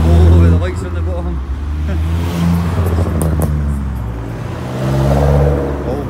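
A Volvo car revs and pulls away from a Scottish car meet, its loud engine rising and falling close by, with voices of onlookers chatting over it.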